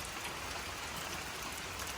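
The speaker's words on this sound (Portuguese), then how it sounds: "Só que olha o tempo, chuvarado." Heavy rain pours down on a construction site, a dense, even hiss of falling water that holds steady and fairly loud for the whole moment, with no other sounds over it.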